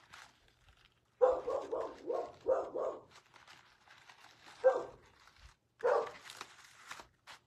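Dog barking indoors nearby, a quick run of sharp barks followed by two more isolated barks after a pause.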